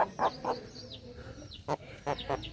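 A tall, double-bodied Rasangi breeder hen on a farm gives a series of short, separate clucks in uneven bursts, quiet and close, with faint higher chirps between them.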